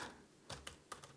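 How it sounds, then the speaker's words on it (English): Keys on a computer keyboard click in a few quick separate taps, close and quiet, with nothing else heard around them. "Just imagine what I'm typing here"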